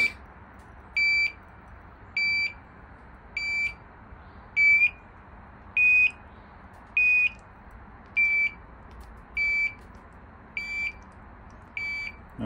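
A TOPTESS CT-580 carbon monoxide detector sounds a high electronic beep about once a second, steady and clear over a quiet background.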